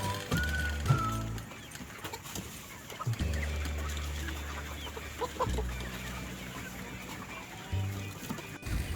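Chickens on a busy Indonesian poultry farm, housed about 1,000 to 1,200 birds to a shed, cluck and call steadily from a large flock, with a low humming drone that runs through the scene.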